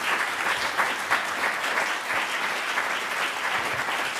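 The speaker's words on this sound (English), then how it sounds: "let's have one big round of applause for our candidates" An audience at a city council candidate forum claps together in a steady, dense round of applause that holds evenly for about four seconds, with no voices over it.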